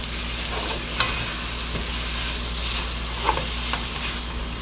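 Garlic frying in a pan, two heaping spoonfuls, with a steady sizzle throughout and a few sharp scrapes and clinks of stirring, close and fairly loud, no talking.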